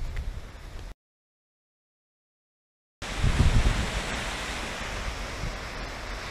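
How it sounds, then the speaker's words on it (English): A small waterfall just below Jungbang on Jeju Island gives off a steady broadband rush of falling water, briefly cut to silence before resuming fuller, with no voices. "So this is the second little waterfall down from Jungbang."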